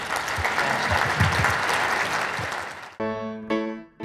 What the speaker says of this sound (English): So all you guys deserve a big round of applause.